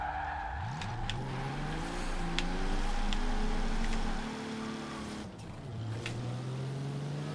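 Toyota Supra engine in Forza Horizon 4 racing, revving steadily with harmonic whine rising through gears, a shift dip near the middle, then climbing again, loud and close with no talk.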